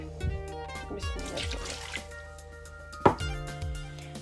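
Water is poured and dribbled into washed minced meat in a kitchen, with uneven splashes, drips and a sharp splash near the end, close up, with a voice speaking faintly underneath.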